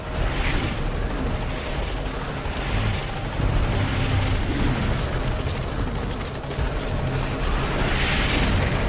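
A helicopter touching down in Metal Gear Solid V, its rotor thumping and whining loudly and steadily, with pulsing swells as it hovers close, no talking.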